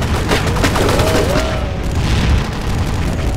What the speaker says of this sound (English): He just has a super powered Gatling gun